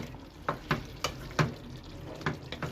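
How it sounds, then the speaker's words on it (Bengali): Ridge gourd and prawn curry with mustard paste stirred in a pan: a spoon scrapes and clacks against the metal in several short strokes over a faint simmer, close and quiet. "একটু উপর নিচে দুবারা ভালোভাবে নাড়াচাড়া করে দিলাম"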